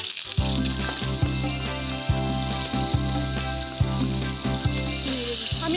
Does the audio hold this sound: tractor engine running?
no